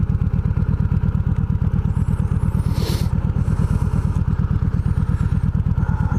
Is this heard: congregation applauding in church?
no